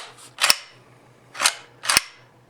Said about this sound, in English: In my opinion, the best sounding bolt in an airsoft AK I've seen.